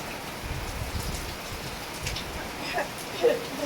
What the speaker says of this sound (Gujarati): વરસાદે ધબડાટે બોલાવવાનું ચાલુ કર્યું છે